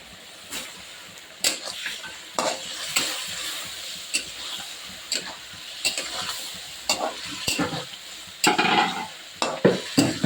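Shol and rui fish cook with kohlrabi, onion, chili, turmeric, cumin and garlic paste in a pan. The oil sizzles steadily while a utensil stirs and scrapes in repeated, uneven strokes.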